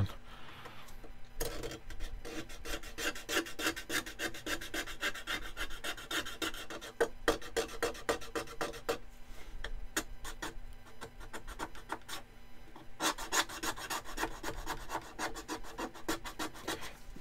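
A metal file rasps grooves into wood with repeated back-and-forth strokes, a dry scratchy rhythm that pauses briefly between passes and stays close and fairly quiet.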